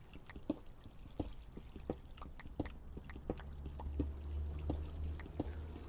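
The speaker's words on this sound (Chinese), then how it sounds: "有了，谢谢这个流水声" Water trickling and pouring in the video game Minecraft, with quiet, irregular splashy drips and soft clicks over a low background hum.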